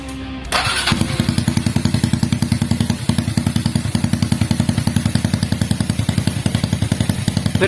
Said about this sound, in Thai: เสียงมันจะออกแบบแท็กแท็กแท็กแท็กแทเหมือนบางครับ